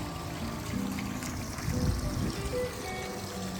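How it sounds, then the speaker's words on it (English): A small backyard water feature trickles and splashes in a steady, continuous flow, close by and moderately quiet, with a faint low rumble beneath. "Has a little water feature back here."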